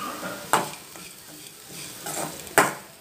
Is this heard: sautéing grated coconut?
yes